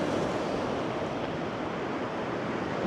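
Ocean surf washing onto a beach while fishing, a steady, broad rushing roar with a slight rise at the end, mixed with wind noise and no voices.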